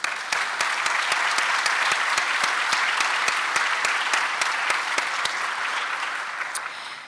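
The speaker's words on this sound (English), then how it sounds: "I'd love to give another round of applause to all of them" Audience applause at an international leadership conference: a full room claps steadily for about seven seconds, with a few sharp individual claps standing out near the front, fading slightly at the end.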